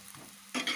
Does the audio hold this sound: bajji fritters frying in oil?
yes